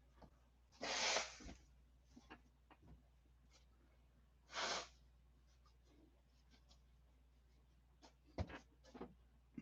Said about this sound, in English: I got to blow my nose real quick.